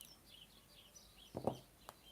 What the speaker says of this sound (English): Bird chaos outside.